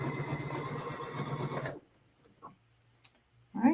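Sewing machine on a Luminaire or Sol stitching 2 1/4 inch quilt binding, a steady close rapid whirring run that stops abruptly partway, followed by a few small clicks and quiet handling.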